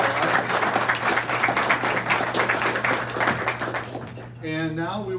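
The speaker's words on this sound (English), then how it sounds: "So let's give them a round of applause." Meeting audience applause, a few seconds of brisk, fairly dense clapping from a modest crowd that fades out as a voice starts speaking.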